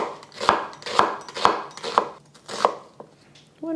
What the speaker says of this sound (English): I'm just using half an onion. I'm just going to cut it up into slices.